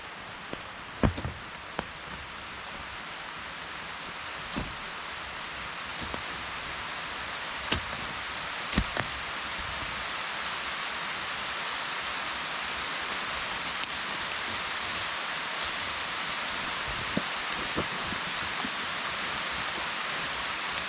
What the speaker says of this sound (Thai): ว้ายฝนตก ฝนตก ฝนตก